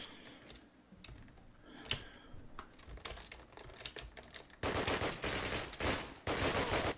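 Rapid video-game gunfire from Call of Duty, bursts of dense automatic shots building from scattered earlier pops into loud sustained volleys near the end, with no talk over it.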